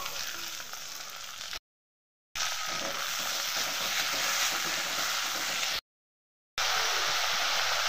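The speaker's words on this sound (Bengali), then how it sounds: "টমেটো দিয়ে দেবো।" Tomatoes hit a hot pan for ghugni, a loud, dense sizzle and fry that holds steady, briefly cut out twice.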